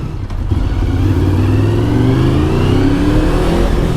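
A Honda VFR750 motorcycle with 100k miles on it revving on the road: a loud, close engine whose pitch climbs steadily under hard acceleration, continuous and alone with no talking.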